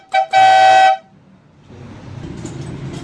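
A loud pressure horn wired through a 4-pin relay gives a quick toot, then a sustained blaring honk under a second long, followed by a low rumbling background.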